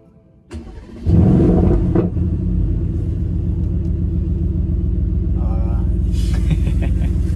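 A car engine cranks and catches, then settles into a loud, steady idle rumble close by. The idle carries on for several seconds.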